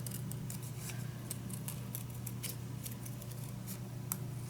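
Crisp snips of scissors trimming around a small paper cutout, a series of short sharp cuts in irregular rhythm over a low steady hum, close and fairly quiet.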